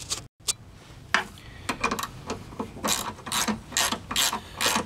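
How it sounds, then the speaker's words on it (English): Socket ratchet clicking steadily while tightening the bolts of an aluminum winch fairlead, a close run of quick pawl ticks in bursts, with no talk. "I'll be able to use a socket and a ratchet rather than wrenches"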